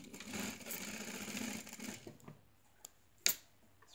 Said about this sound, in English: I'll sew over the pins.